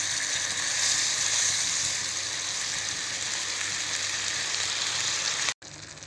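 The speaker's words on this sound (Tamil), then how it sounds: "இது நல்லா பாயில் ஆகட்டும்" Flour and water bubbling and simmering in a pan for mushroom soup, a steady hissing, sizzling wash that holds evenly for several seconds before a brief cut, close and moderately loud with no voices.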